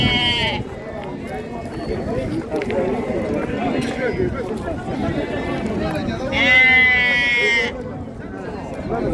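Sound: lambs bleating at a sheep market

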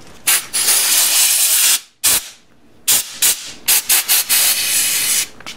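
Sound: compressed air blowing filings out of motorcycle part

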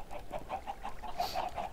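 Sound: chickens clucking on a chicken farm in the video game Minecraft

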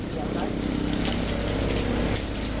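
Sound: heavy rain

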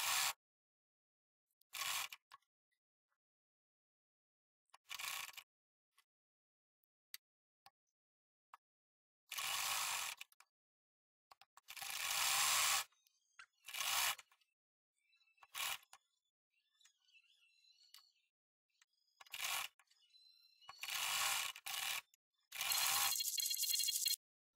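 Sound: sewing machine stitching a round frock

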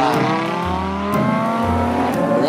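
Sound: car driving in a video game

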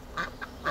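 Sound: white Peking ducks quacking at zoo

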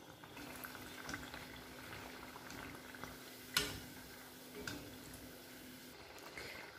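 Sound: potato bread pakoras frying in oil in a kadhai

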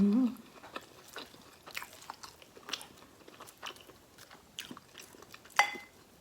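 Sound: eating omelette rice for breakfast

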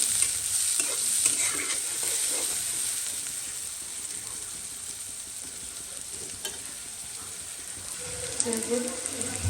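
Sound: onion, chilli and cardamom frying in oil

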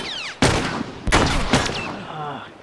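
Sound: gunfire in video game The Last of Us

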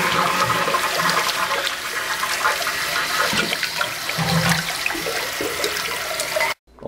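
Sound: toilet tank refilling with water after valve and hose replacement

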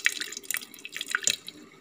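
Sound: draining water from cooked lentils for sambar

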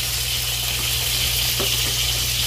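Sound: stir-frying garlic chive flowers with beef and cucumber

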